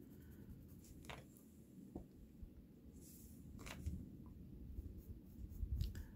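Graphite pencil scratching over toothed drawing paper, with soft broadband strokes repeating irregularly and growing slightly louder toward the end, close and quiet with no talking.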